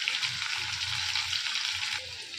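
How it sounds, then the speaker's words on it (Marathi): Onion and chopped tomato frying in a pan, a steady close hiss and crackle of sizzling that runs throughout without talk, easing slightly near the end. "आता कांदा आणि टॅमॅटो आहे ना, ते फ्राय होत आहे"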